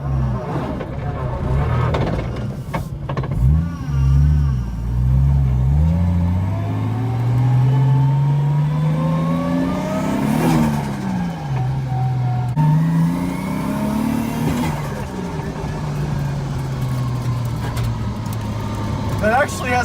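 A 1JZ-swapped FC RX7 drift car revs hard, its engine note climbing and breaking up in repeated rises and falls, loud and close throughout, with voices talking over it.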